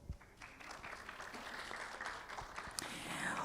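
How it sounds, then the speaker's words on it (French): Audience at a conference on Africa applauds a former minister being introduced, a steady, moderately faint patter of many hands clapping in a large room with no speech over it. "Je vous prie de l'applaudir."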